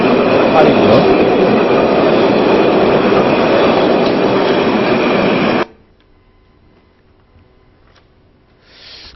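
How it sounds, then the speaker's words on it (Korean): Battery-powered wireless tram with no overhead lines, a domestically developed design, rolling past loudly with a steady broadband rumble and rail noise for several seconds before abruptly cutting to near silence. "이 트램이요, 우리나라에서 이제 개발했는데요, 무전선입니다. 전선이 없어요. 그리고 배터리로 하고 있고요."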